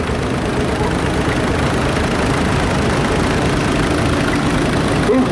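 A historic grassland tractor with a small 950cc engine idles at an autumn show arena parade, a steady, dense rumble running without a break, loud and fairly close.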